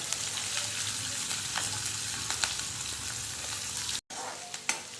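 Peanuts, curry leaves, chillies and onion fry in hot oil for bhadang, a continuous soft sizzle with scattered stirring clicks and scrapes, close and fairly quiet, with a brief dropout near the end.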